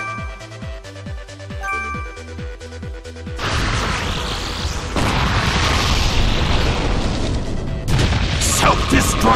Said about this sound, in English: Self-destruct detonates. A huge amount of damage.